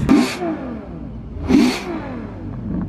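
Lamborghini Murcielago supercar revving as it departs, two loud throaty engine blips about a second and a half apart, with rising whine and a rumbling idle between.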